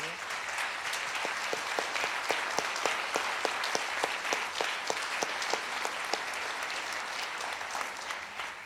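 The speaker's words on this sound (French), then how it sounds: "Oui, je peux l'applaudir." An audience applauds steadily throughout at a festival opening-night tribute, with a sharp clap standing out now and then, fading slightly toward the end.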